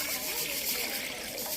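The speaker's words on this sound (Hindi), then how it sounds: "मैं 2 गिलास भर के पानी डाल रही हूँ" Water poured steadily from a glass into flour while making rice pinni dough, a continuous rushing, splashing stream that stays even throughout.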